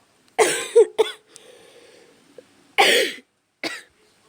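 A person coughs sharply twice, pauses with a faint throaty rasp, then coughs twice more, close and loud.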